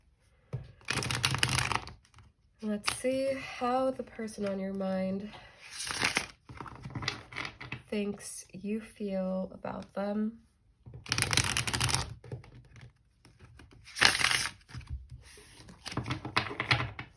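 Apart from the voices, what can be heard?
shuffling tarot cards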